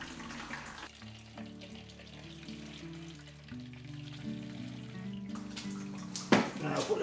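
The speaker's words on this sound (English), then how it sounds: "Then you take the boiling water and pour it slowly over the side of the" Boiling water poured slowly over the side of an LPG bottle, a faint continuous trickling wash with a low tonal ring from the metal cylinder, ending in a brief louder splash.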